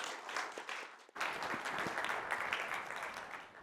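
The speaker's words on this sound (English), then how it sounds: "can we have a warm round of applause for Shanna Daly?" An audience at a threat intelligence talk claps warmly as the presenter walks up to the stage, a dense, even patter of many hands that briefly dips and then resumes and carries on steadily without any voices.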